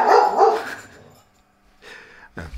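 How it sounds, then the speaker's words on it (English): Dogs bark in short bursts, a loud cluster of barks followed by a pause and two more sharp barks close by. "The dogs are barking."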